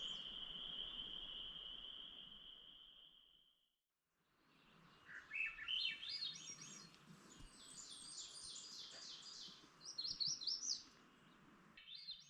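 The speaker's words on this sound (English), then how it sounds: "Birds are awake." A high, steady insect-like trill gives way to birds chirping and twittering at dawn in quick repeated phrases, faint and distant in a quiet wilderness campsite in Quetico.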